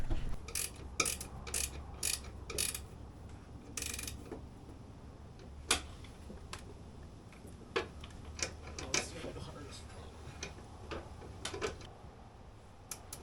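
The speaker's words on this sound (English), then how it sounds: "I'm just going to get these last couple bolts tightened up" Bolts being tightened on a lifted Nissan Pathfinder, heard as a run of sharp ratcheting clicks and metallic ticks, fast bursts early then scattered single clicks, fairly close over a low background hum.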